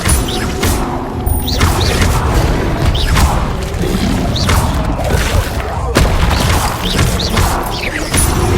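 Spell effects cast in rapid succession in the Hogwarts Legacy game, a loud string of booming impacts, whooshes and crashes recurring every second or so over a dense, continuous game soundscape.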